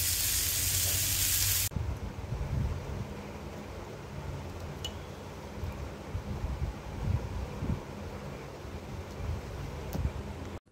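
Fish fries in hot oil with a continuous, close crackling sizzle and irregular popping bursts. A brief louder rush of noise at the very start gives way to the steady frying.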